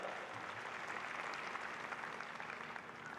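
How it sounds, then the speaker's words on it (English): Spectators at the RDS National Equestrian Championships applaud a clear show jumping round by Mikey Pender on MHS Cardenta. Faint, distant clapping spreads evenly across the arena, a soft continuous patter with a steady hum underneath. "Give him a big round of applause."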